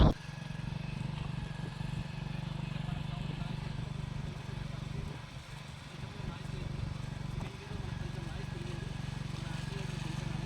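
An electric scooter rides along in second gear, a steady low motor and road rumble with wind noise that dips briefly midway, while someone talks over it.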